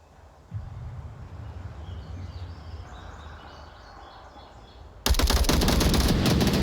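Gunfire in a competitive video game team match: a quiet stretch of game ambience gives way to loud, rapid bursts of shots near the end.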